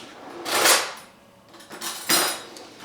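Metal kitchen utensils clink and rattle as a spoon is lifted out from among them. There are two distinct bright clattering bursts, close and moderately loud, with a quieter shuffle between them.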